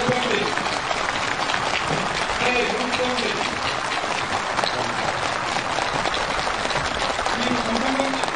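Sustained, enthusiastic applause from participants at a housing-permit handover ceremony for mine workers in South Hamgyong, steady and dense throughout with faint voices mixed in.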